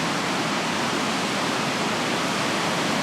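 A river in Index, Washington, prone to flooding, rushes steadily, a dense, even roar of flowing water with no breaks and no voices.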